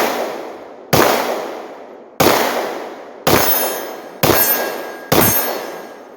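Six loud handgun shots fired by a shooter wearing winter gloves, each a sharp crack with a long ringing decay, spaced about one second apart outdoors.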